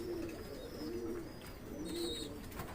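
Pigeons coo in low, rolling phrases that repeat steadily over a soft background hum, with a few faint higher chirps mixed in.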